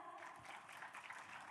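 Steady applause from an audience at a school anti-corruption vlog competition, a dense wash of many hands clapping at once, moderately loud and continuous with no pauses.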